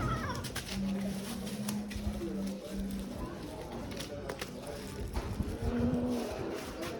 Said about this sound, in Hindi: कोई बिल्ली रह तो नहीं गई?